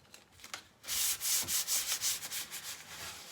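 A Chalk Couture fuzzing towel is rubbed across a wood surface in a series of about ten rhythmic, close scrubbing strokes after a quieter start, with no voices.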